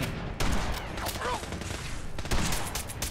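Rapid gunfire in the video game Fallout 4, bursts of sharp repeated shots close and loud, with brief pauses between volleys and a voice faintly speaking underneath.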